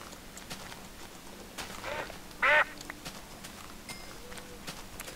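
A duck in the video game Minecraft gives one short, sharp quack partway through, heard over quiet background noise and faint footstep-like sounds.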